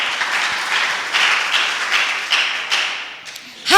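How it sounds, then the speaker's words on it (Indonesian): Church congregation clapping, a bright, close, steady patter of many hands with a few louder swells, ending with a brief voice at the very end. "Tepuk tangan."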